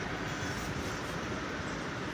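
A train rolls past with a steady, broad rumble and rushing noise, loud and continuous without a break, as a child watches from nearby.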